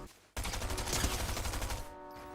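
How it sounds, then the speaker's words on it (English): Fortnite gunfire: a sudden sustained burst of rapid automatic shots, loud and dense for about a second and a half, then tapering off. "He's shooting at the guy I can't even see yet."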